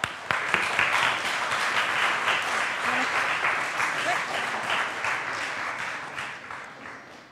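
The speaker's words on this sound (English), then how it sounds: "Big round of applause." Applause for two speakers at a careers-in-video-games talk, a dense, steady burst of many hands clapping that begins abruptly and holds for several seconds before gradually thinning out.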